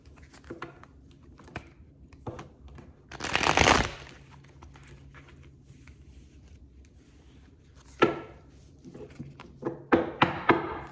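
Shuffling a tarot deck: a loud riffling burst near the start, then softer card handling and a second flurry of quick riffles toward the end.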